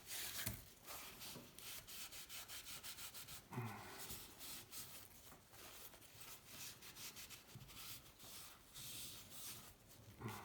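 Sandpaper rubs back and forth over the piston of a 1984 Honda C70 Street Cub, a faint rasping scrub repeating in quick steady strokes with brief pauses, close and without talk.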